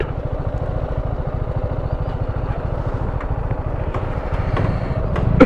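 A motorcycle engine runs with a steady, rumbling low pulse, close and continuous, as the bike rolls up to a rural resort in Purulia, with light clatter toward the end.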